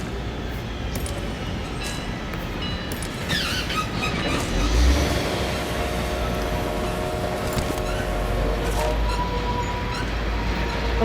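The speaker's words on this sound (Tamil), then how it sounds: "ட்ரெயின்ல யாரும் வரலையா?" A train rolling along in the mobile battle game PUBG Mobile, a steady rumbling clatter with some metallic squeal and clinks, continuous and fairly loud throughout.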